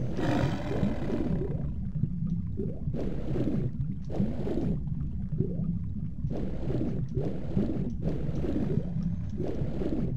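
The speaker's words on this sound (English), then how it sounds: "Oh, I can hear a lion." A lion roaring in Tomb Raider Remastered: a series of deep, rumbling roars in repeated bursts over a low, steady ambient drone, with no talking.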